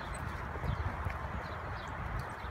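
Horse hooves thud and shuffle on soft ground as the horse is schooled through a first spin exercise, low and muffled with no talk.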